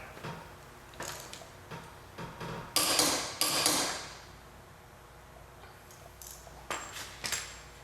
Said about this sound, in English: We're going to go ahead and torque this one down.